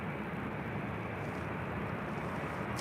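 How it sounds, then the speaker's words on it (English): An American Airlines Boeing 787-8 Dreamliner arriving at LAX from Philadelphia, a steady broadband jet roar that stays even and fairly distant throughout, with no voices. "The American 787-8 Dreamliner coming in from Philadelphia."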